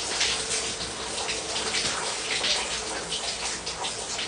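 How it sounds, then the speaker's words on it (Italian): Shower water jet streaming steadily and close, a dense continuous hiss and splash with no breaks, heard alone without any talking. "Oh, sto getto d'acqua, è finto!"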